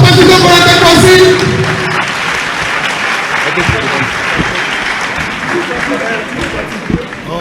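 Dense applause from a large crowd at a political gathering in Côte d'Ivoire, loudest at the start and then settling into steady clapping with voices mixed in underneath.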